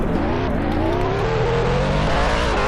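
A NASCAR Ford race car engine in a Daytona racing video game drones loud and steady, its dense harmonic tone gradually rising in pitch as it accelerates, with no voices over it.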